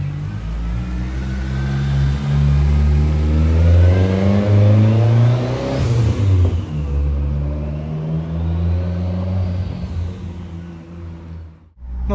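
A Volkswagen Santana GLS with a 2-litre turbo engine running about 0.9 bar of boost revs hard and loud, climbing and falling through several long pulls before cutting off abruptly at the end.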